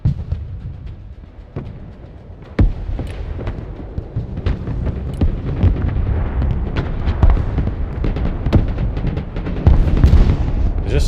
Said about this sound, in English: There's just so much artillery as well